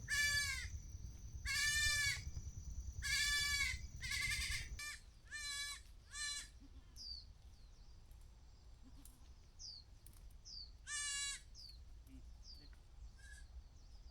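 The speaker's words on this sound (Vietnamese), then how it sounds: "Đi đuổi dê." Several goats bleat in loud, harmonic calls, first in a quick run of cries and then in scattered single bleats at a farm in An Tuong, Tuyen Quang, Vietnam, with bird chirps and a low rumble behind them.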